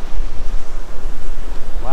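Atlantic surf rolling up the beach at Kathryn Abbey Hanna Park in Jacksonville, Florida, as the tide comes in, a loud rushing wash of breaking water mixed with heavy wind buffeting the microphone.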